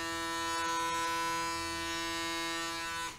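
A PMD electric microdermabrasion skin tool runs with a steady, loud mechanical whine and dense harmonic hum that holds evenly for about three seconds, then cuts off as it shuts down.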